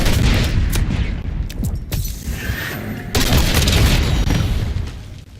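Semtex grenade detonation in Call of Duty: Black Ops 6, a loud booming blast amid dense gunfire and battle noise, with a second heavy surge of explosive rumble partway through.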